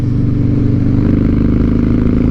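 A Harley Night Train motorcycle engine runs with a steady, loud, close drone and slight uneven stutters from a misfire after new spark plugs, with no talking.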